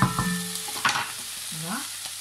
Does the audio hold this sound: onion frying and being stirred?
yes